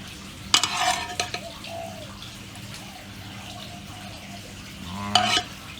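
Cooked pasta alla Norma being moved onto a plate, a few close wet scrapes and clinks of utensil against dish at the start and again near the end, quiet handling in between.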